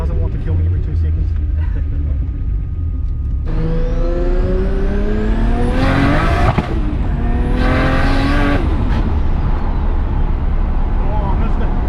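A 700HP Nissan Laurel C33 revving hard on a street, the engine climbing loudly and bouncing off the rev limiter in rapid stuttering bursts, with someone speaking in the cabin.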